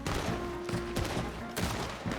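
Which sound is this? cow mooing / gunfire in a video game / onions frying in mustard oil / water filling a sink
gunfire in a video game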